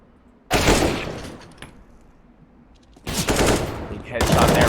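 Gunfire in a Counter-Strike esports match between X13 and CENSRD: three loud bursts of rapid automatic fire, separated by quieter gaps, ending in a headshot.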